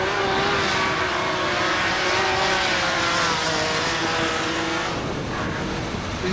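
Drift car engine revving hard at the Betsafe Drift Finals 2024, a loud continuous roar with rising and falling revs and a shift in pitch near the end, with no talk over it.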